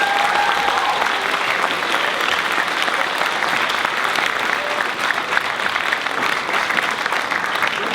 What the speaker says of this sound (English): one last round of applause for all of the filmmakers